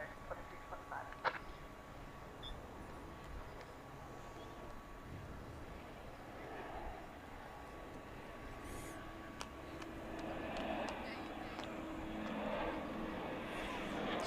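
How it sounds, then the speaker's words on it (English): An American Airlines Boeing 737-800 takes off at night at DFW, heard from a distance as a low jet rumble that builds steadily over the clip under quiet outdoor ambience, with faint talk near the start. "I think we've got American Flight 1104 to Boise, Idaho, 737-800."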